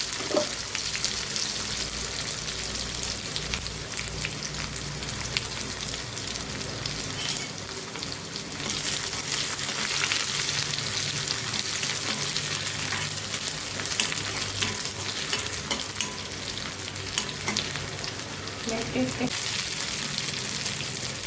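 Shallots frying in a pan while making coconut chutney, a continuous close hiss and crackle with light stirring, steady throughout, with a voice talking now and then over it.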